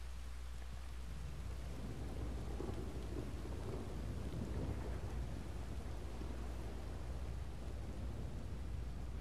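Steady, dense rain and rolling thunder fill the scene in the video game Red Dead Redemption 2, forming a continuous wash of downpour with a low rumble underneath and no voices.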